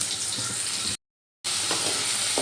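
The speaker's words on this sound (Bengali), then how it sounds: "এবার এই গুঁড়ো মশলাটা দিয়ে ভালো করে কষিয়ে নেব" Spice paste with tomato sizzles and fries in a pan, a steady hiss that cuts out briefly and then resumes with soft stirring sounds.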